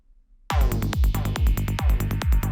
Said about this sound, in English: it uses, I believe, the strings of a piano to generate some kind of reverb